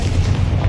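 The Confringo explosive spell goes off in a Harry Potter video game as a loud, heavy, rumbling boom that fills the whole short moment, deep and close.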